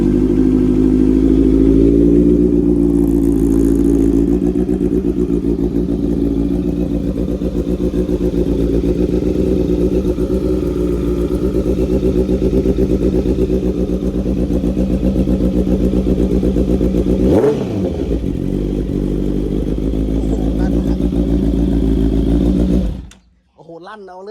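A loud Honda CB650F motorcycle engine runs close by for a long stretch, rising briefly in pitch early on, then cuts off abruptly near the end.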